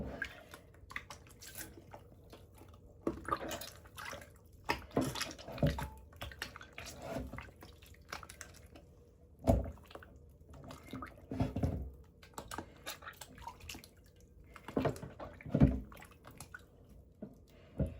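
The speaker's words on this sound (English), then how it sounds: "once you have your water in here, I filled it just below the top of the butter. And then I'm just going to knead it" Hands knead a lump of homemade butter submerged in a bowl of water, giving soft wet squishes and drips in irregular bursts separated by quiet pauses, close up with no talking.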